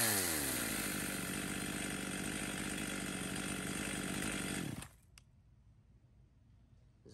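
A used Japanese-market two-stroke chainsaw, from a batch including STIHL, ECHO, Hitachi and Komatsu saws, runs loud and steady at high revs for several seconds, then cuts off abruptly, leaving near silence.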